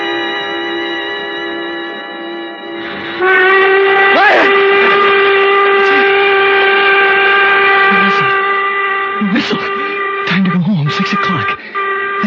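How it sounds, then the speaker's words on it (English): A train whistle sounds one long, loud, steady chord close by, swelling stronger after a few seconds and holding almost to the end, with brief faint voice-like sounds underneath. "the whistle woke me up"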